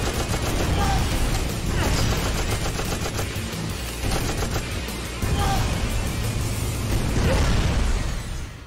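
Rapid machine gun fire rattles almost without pause in the PS2 video game Deep Water, in dense, loud bursts mixed with pops and booms.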